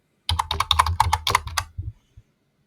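Rapid keystrokes on a computer keyboard, a close, clicky burst of about two seconds with uneven rhythm, ending in a couple of isolated taps, with no talking.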